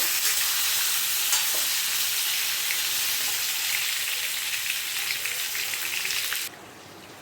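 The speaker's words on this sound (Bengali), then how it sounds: "পটলগুলোকে আমি খুব ভালো করে ভেজে নেব।" Pointed gourd (potol) fries in hot oil in a wok with a steady, close sizzle that runs for several seconds, then drops off sharply near the end. Nobody speaks.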